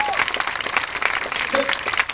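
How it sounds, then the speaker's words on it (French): Audience applause at a live show after a trained seal performs a trick, steady clapping filling the space at moderate loudness with a faint voice briefly heard. "C'est beau Daphné, on peut l'applaudir, c'est très joli."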